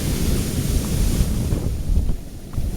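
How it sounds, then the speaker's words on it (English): Ocean surf rolls and breaks at Secret Beach on Kauai, Hawaii, a continuous low roar with heavy wind buffeting across the microphone and no talk. "Those are some pretty good waves"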